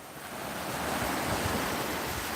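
Sea breeze blows at a beach, a continuous broadband rush of wind mixed with surf, fairly loud and steady throughout with no voices.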